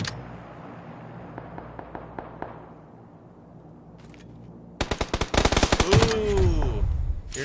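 Video game match with gunfire trading back and forth: sparse single shots early on, then a dense, loud burst of rapid automatic fire near the end with a ringing whine over it.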